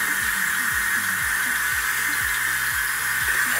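A teeth whitening tray rinsed under a running tap, a steady close hiss of flowing water with a rhythmic low repeated knocking underneath throughout.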